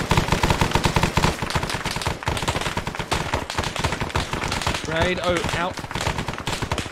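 Sustained machine gun fire in the Vietnam-era Arma 3 game, loud rapid bursts of automatic shots throughout, with someone talking and shouting briefly over the gunfire.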